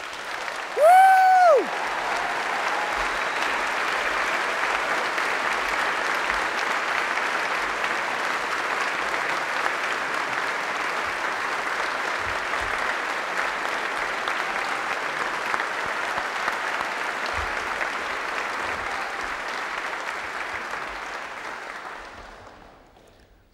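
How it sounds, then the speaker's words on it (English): A graduation audience at Arts University College at Bournemouth gives students and staff a long, massive round of applause, dense sustained clapping with a single whoop at the start, fading out at the end. "I'd like you all to join me in a massive round of applause, both for the students and the staff who got them there"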